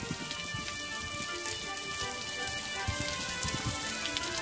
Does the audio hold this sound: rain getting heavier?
yes